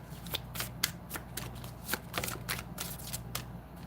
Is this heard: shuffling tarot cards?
yes